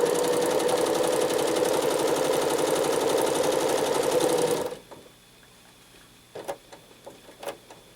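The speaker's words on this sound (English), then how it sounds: "Now I'm going to travel stitch the rest of the way down and then across to come up with another flowing line across the place." Sewing machine running free-motion quilting stitches, a steady loud mechanical whir for about four and a half seconds before stopping, followed by a few faint clicks and handling knocks.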